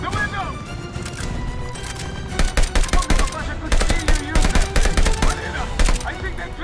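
Heavy gunfire in the Call of Duty: Vanguard campaign: dense, loud bursts of automatic fire and shots that crackle repeatedly through the whole stretch, growing sharper and more clustered toward the end, with music and battle noise underneath.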